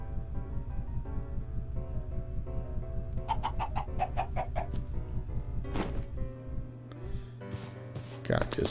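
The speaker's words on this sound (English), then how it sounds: "Okay, so let's grab a chicken." Chickens on a farm clucking in short repeated bursts, close and fairly loud, with steady background noise and people talking at times.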